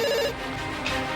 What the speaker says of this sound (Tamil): அப்பா, உங்களுக்கு ஃபோன் வந்திருக்கு.